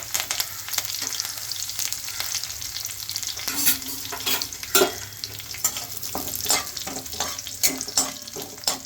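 Crushed garlic and curry leaves fry in hot oil for a potato fry, a dense close sizzle with occasional crackles and stirring scrapes, steady throughout and free of talk.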